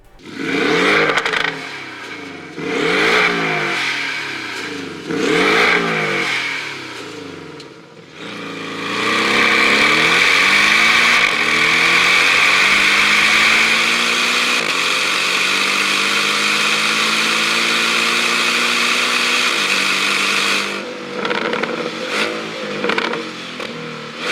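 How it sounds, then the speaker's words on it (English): A Porsche 718 Cayman S with a sports exhaust revs in several short, sharp blips, then holds a long, loud rev that rises and falls back. A few more quick blips follow near the end, all without talk. "there is a S version sound with a sports exhaust on here. Let's take a listen."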